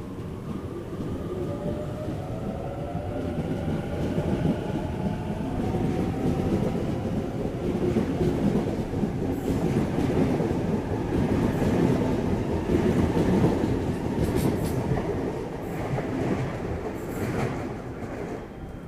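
A Sydney Trains A set electric train departs a station platform, a steady rolling rumble with rising motor whine and clicking wheels over rails, close by and sustained.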